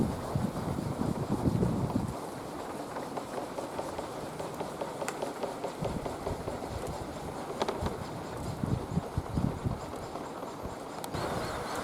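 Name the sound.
wind blowing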